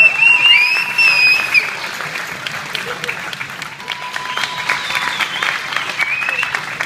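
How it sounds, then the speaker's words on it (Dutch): Applause breaks out after a demonstration match between teams, loud at first and then thinning to scattered clapping, with a high electronic tone and faint voices in the background. "geef ze een dagelijks applaus"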